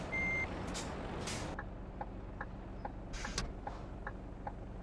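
A truck in a trucking video game rumbles along steadily while faint, evenly spaced reversing beeps repeat, with a few short hissing air-brake bursts; quiet overall and no speech.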